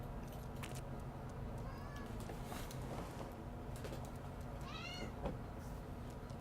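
Meows from a cat in the horror video game Daylight, several rising calls heard over a steady noisy game ambience, fairly clear but not loud.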